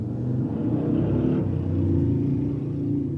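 A motorcycle on a nearby street rumbles past, swelling and fading over a few seconds against a steady low background hum.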